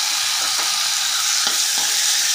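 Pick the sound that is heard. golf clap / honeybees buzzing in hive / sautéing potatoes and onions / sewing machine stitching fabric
sautéing potatoes and onions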